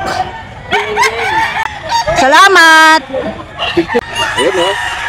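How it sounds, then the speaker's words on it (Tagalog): Fighting cocks of Golden Boy and Kelso breeds at a gamefowl market in Grotto, Bulacan, crowing loudly in one long drawn-out call with clucks around it, close by, mixed with people talking. "Puro quality ang mga manok."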